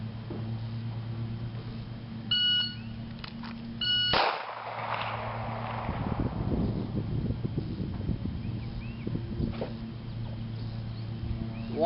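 A few short electronic shot timer beeps, then a sharp pistol gunshot cracks and echoes away, over a low steady hum.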